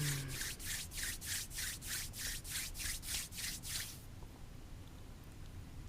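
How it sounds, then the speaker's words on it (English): Bare palms rubbing together in a quiet room, about ten brisk strokes in a steady rhythm, close and soft, then dropping to near silence. "let's rub the hands together again"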